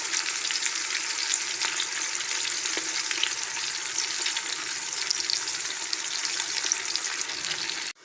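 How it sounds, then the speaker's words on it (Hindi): Chopped onions frying in hot oil until lightly browned, a dense continuous sizzle with occasional stirring scrapes, close and steady throughout before cutting off at the end. "थोड़ा सा इसको ना हल्का सा ब्राउन करना है प्याज को।"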